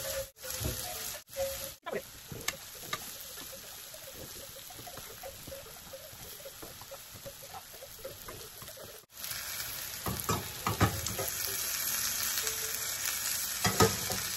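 Prawns and onions fry in a pan for a sweet-pumpkin prawn dish, giving a continuous close sizzle with occasional stirring clatter and a few sharp knocks.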